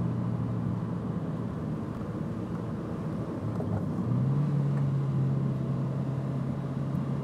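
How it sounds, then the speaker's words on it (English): A Toyota MR2 Spyder fitted with an aftermarket short shifter drives along with a steady engine drone and road rumble from inside the cabin, the engine note rising and settling at a new pitch partway through as it shifts into second. "We'll see if we can try getting into second gear up here."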